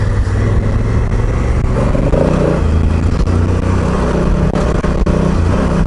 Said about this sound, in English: Riding off-road on a bike that's just way too big and heavy